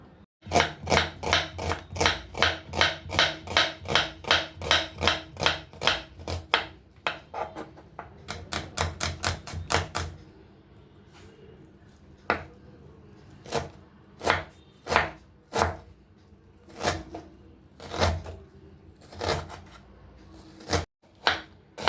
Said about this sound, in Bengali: এবার পেঁয়াজটা কেটে নেবো